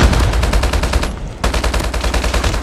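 Rapid automatic gunfire from Call of Duty Mobile, in a Kill Confirmed match, rattles loud and close in fast continuous bursts, breaking off for a brief pause before resuming just as densely.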